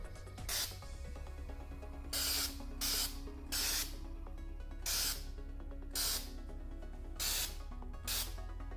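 An aerosol spray can applies a texture coat to ear modules in a series of about seven short bursts, each a sharp hiss of roughly half a second, close and loud against a quiet humming room.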